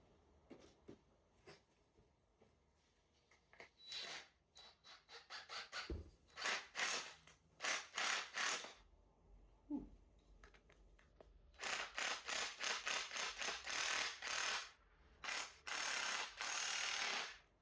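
A screw being driven through a wooden 2x4 for a climbing hold, heard as repeated bursts of grinding, rasping drive noise separated by short pauses, loud and close with no talking.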